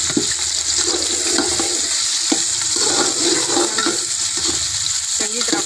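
Onions sizzling and frying in hot ghee in a pan, a steady close crackle with scattered stirring clatter throughout and no talk.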